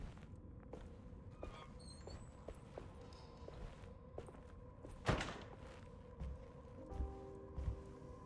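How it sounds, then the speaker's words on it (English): Faint, sparse footsteps fall in a quiet, eerie room in the horror game Alone in the Dark, with a louder thud partway through and soft low hum in the background. "Oh, I'm still hearing those footsteps."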